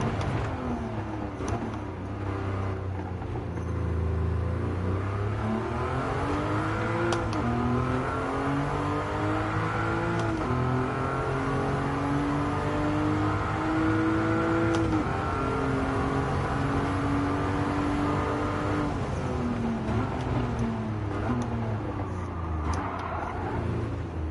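A road car in Gran Turismo 7 revs and accelerates with a rising and falling engine drone and repeated gear-shift dips, loud and sustained, with no one speaking.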